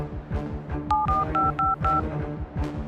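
Touch-tone telephone keypad beeps from placing a call, a quick series of about six dual-tone presses in an uneven rhythm, clear and close over a low background hum.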